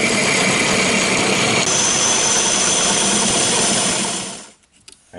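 A power drill or lathe-driven bit boring out an oak and epoxy resin bowl blank, a loud, steady motor whine with grinding that holds for several seconds and then spins down to a stop, with no talk.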